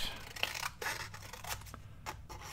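Scissors snipping a tab off a junk journal piece, a few close, crisp cuts spaced irregularly over a couple of seconds, no voices.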